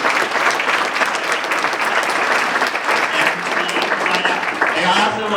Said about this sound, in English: First of all, big round of applause for Keith